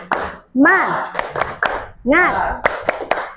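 Classroom of students doing a rhythmic spirit clap led by their teacher, sharp clap bursts alternating with a called cue and the children's loud shouted response, repeated twice in a quick pattern.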